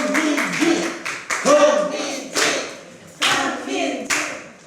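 Crowd at a Justice Party press conference on the anti-discrimination law claps in short uneven bursts, with voices chanting and calling out between the rounds of applause.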